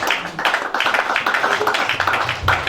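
A church congregation at a Sunday worship service claps together after a scripture reading, a steady round of applause filling the room for a few seconds.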